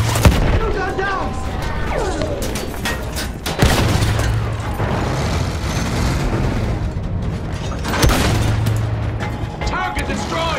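Field gun firing in the World War I shooter Battlefield 1, heavy booming blasts and rumbling detonations recurring amid battlefield clatter, loud, with voices shouting over it.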